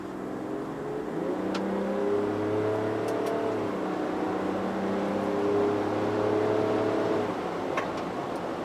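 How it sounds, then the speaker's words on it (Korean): A Land Rover Defender 90's inline six-cylinder engine accelerates smoothly, its tone climbing through rising pitch sweeps across several gear changes, heard steadily from inside the vehicle. "확실히 4기통 엔진보다는 6기통 엔진 소리가 정말 좋죠"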